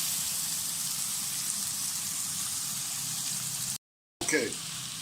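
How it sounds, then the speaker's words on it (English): Onions frying in a pan over a medium fire give a steady, soft sizzle and crackle close up, broken briefly by a short gap and a clatter near the end. "Give that a couple of minutes, about what, 3-4 minutes frying that up."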